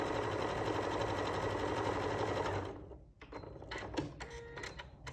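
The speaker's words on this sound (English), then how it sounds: "So I'm just going to begin sewing." Sewing machine running steadily while stitching small quilt pieces for a courthouse steps block, a continuous whirring hum for a couple of seconds that stops, then a few lighter clicks and handling noises.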